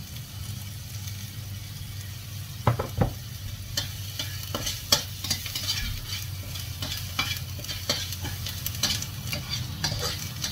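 Oil sizzles steadily in a pan while Chinese fried rice cooks, a continuous frying hiss broken by scattered clinks and scrapes of stirring, close and alone.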